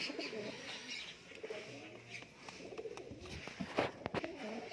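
A golden high flyer pigeon with red eyes coos softly in low, rolling calls, joined by faint chirps from other birds in a quiet loft.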